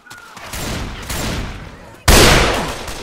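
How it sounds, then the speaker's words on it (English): Gunfire from a Left 4 Dead mod, a burst of rapid shots with a loud sharp blast near the end, dense and close, with faint talk in the background. "I can still shoot you."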